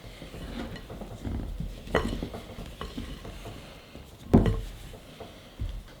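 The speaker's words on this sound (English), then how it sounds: "And beat all of this with a wooden spoon" Wooden spoon beating gingerbread dough of ground ginger, allspice, cinnamon and bicarbonate of soda in a bowl, a steady scraping stir with a few louder knocks against the bowl, close and alone.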